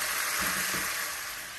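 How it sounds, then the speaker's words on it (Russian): Meat frying in vegetable oil in a pan for braised cabbage, a steady close hiss of sizzling with a few soft stirring clunks, fading slightly toward the end. "начинаем обжаривать наше мяско"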